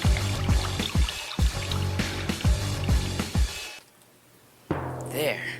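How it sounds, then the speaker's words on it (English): Water poured into a tape-covered column, a splashing trickle heard alongside knocks and a speaking voice, then a brief quiet gap before sound resumes. "Now fill it up with water."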